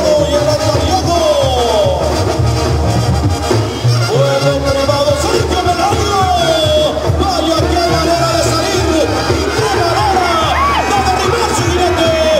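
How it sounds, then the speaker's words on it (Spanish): Rodeo crowd at a ranch arena in Tecomán, Colima, cheering, whooping and applauding loudly and continuously, with brass music audible and an announcer's voice over the roar. "un jinete de la calidad de Braulio Villegas, el aplauso y la diana, muchachos, para..."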